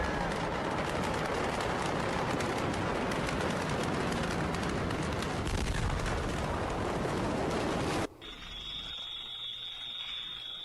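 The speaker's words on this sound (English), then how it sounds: "Tons of little explosions. I mean, that does sound like firework explosions" Many small explosions go off inside a factory during the Beirut blast, a dense, loud, rapid crackle of pops like fireworks that runs continuously for about eight seconds, then cuts off abruptly and leaves a quieter high whine.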